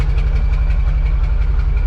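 A 1984 IH Transtar 4300 truck's Cummins BigCam diesel idles loud and close, a steady low rumble with an even throbbing pulse and no talk.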